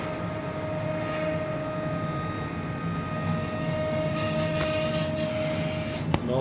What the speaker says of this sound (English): run the motor and exit the plate of machine